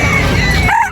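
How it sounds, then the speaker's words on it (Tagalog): Rooster crows among chickens at a busy pet market, loud and near, with a rising then falling call near the end over a dense, noisy crowd background. "Ayan mga manok."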